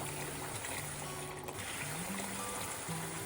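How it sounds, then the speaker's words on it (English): Hot water pours steadily into a large canning pot holding jars of homemade salsa, making a continuous, even rushing trickle that stays soft and unbroken for several seconds. "I'm going to add a little bit more hot water."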